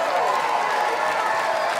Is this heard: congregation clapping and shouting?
yes